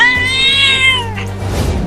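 A cartoon cat meows in a long, drawn-out cry with a rising then falling pitch, loud and close, followed by a brief lower growl at the end.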